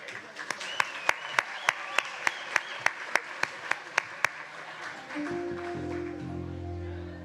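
An audience welcomes the band with rhythmic, evenly spaced unison clapping in a steady beat, after which the band starts playing with sustained musical tones.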